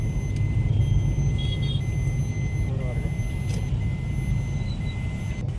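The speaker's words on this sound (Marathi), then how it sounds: "ट्रॅफिक पुण्यात." Road traffic in Pune rumbles steadily, with engines droning close by and faint high horn or beep tones appearing intermittently over the continuous low roar.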